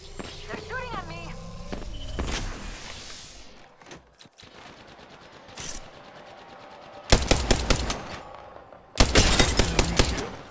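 Automatic weapon fire in Apex Legends season 12, playing as Gibraltar: loud, close bursts of rapid gunshots come in several separate volleys, with footsteps, mechanical game clatter and voice callouts between them.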